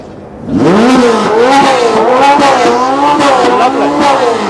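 A rear-engined V8 supercar revving hard nearby, pitch rising and falling through several loud throttle blips with a throaty roar.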